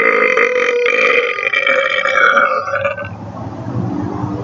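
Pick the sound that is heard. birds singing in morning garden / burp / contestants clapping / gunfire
burp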